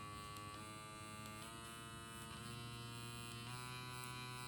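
A microneedling pen motor hums in a steady, faint electric buzz. Its pitch steps up a few times as the speed settings are clicked higher.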